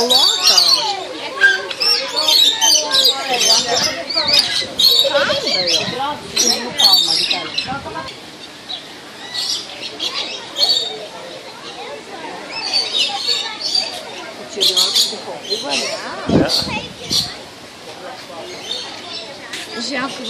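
Parrots squawk repeatedly in harsh, overlapping bursts at a zoo that also keeps tigers and rhinos, fairly close and loud, with people and children talking throughout.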